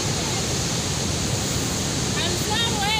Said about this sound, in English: This is the water which is dripping from the falls and it's rising up again.